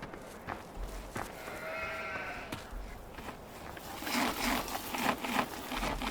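Sheep in a Farming Simulator 15 flock bleating faintly in the distance, a thin wavering call in the middle over low ambient farm noise, with light rustling sounds later.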